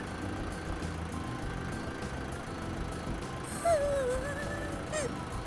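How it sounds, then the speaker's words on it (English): A truck rumbles steadily nearby, a continuous low engine drone with brief higher whines and beeps near the end, with no one talking over it. "I can't hear you because of the truck."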